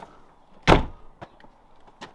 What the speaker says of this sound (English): the door shuts really nice, really nice. There's no slamming as such.